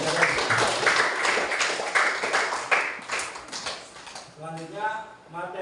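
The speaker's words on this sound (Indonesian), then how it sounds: "tepuk tangan buat Mas Yarul" Classroom applause for a student named Mas Yarul, a burst of many hands clapping across the first few seconds, mixed with voices, then fading as a speaking voice takes over near the end.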